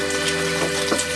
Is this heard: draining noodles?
yes